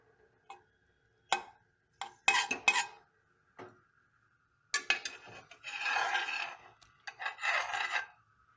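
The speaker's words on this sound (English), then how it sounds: "Let me just go ahead and move this ghee, which is here" A utensil scrapes and rubs across a cooking pan while ghee melts, coming in short separate strokes and then longer rasping passes, close and clear with no talking.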